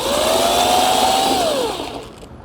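A power tool removes a fastener from a tongue jack, its motor whine rising steadily and then dropping as it spins down, with the sound tapering off near the end.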